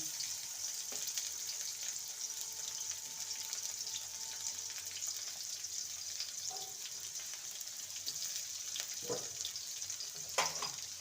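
Chopped tomato and capsicum fry with brinjal in a pan, a steady close sizzle throughout with occasional stirring clinks and scrapes.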